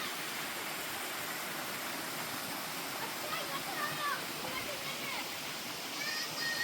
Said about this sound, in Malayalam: ഇതാണ് നമ്മുടെ ആ ചെറിയൊരു വെള്ളച്ചാട്ടം പറഞ്ഞത്.